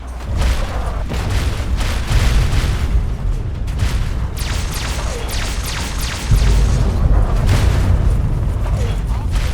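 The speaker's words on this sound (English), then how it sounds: "Where are they launching the rockets from?" Rocket explosions during a Fallout 3 battle against the Enclave alongside Liberty Prime, with repeated loud booms and crashing blasts over dense, continuous combat noise that grows heavier toward the end.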